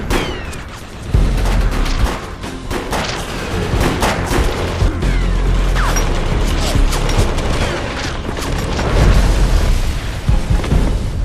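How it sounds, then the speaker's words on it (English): Explosions and gunfire ring out in the video game Defiance, a loud rumbling blast that keeps booming and crackling for several seconds as shots go off, with voices talking over it. "That thing's about to blow!"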